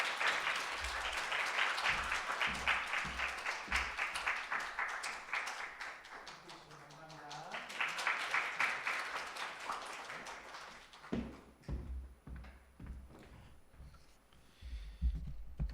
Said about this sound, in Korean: 우리 함께 박수로 환영하도록 하겠습니다.